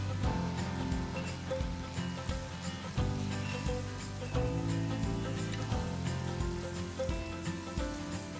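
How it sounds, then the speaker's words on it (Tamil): Green pea poori deep-frying in hot oil in a kadai, a steady close sizzle and crackle of bubbling oil that runs continuously with small surges, alone without voices. "கடாயில் தேவையான அளவு எண்ணெயை ஊற்றி சூடானதும் திரட்டி வச்ச பூரியை மெதுவாக போடுங்க."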